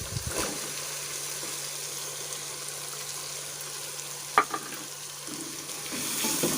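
Carrots go into a pan of frying masala for a mixed vegetable curry, a soft steady sizzle with a sharp clink partway through, then a slightly louder frying hiss near the end; no voices.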